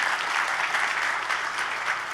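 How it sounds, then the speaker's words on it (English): An audience applauds to welcome guests at a panel event on growing the American economy, a dense, steady burst of clapping from a crowd. "So I'd like everyone to join me in a round of applause in welcoming our guests."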